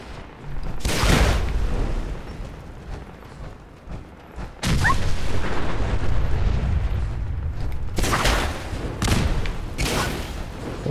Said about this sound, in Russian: А тачки хорошо взрываются от супермолота?